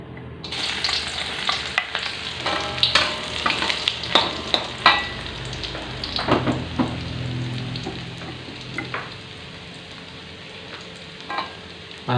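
Onions dropped into a hot pan and frying, a loud close sizzle that bursts up with clatters of stirring, then settles into a steady crackle, with no talk.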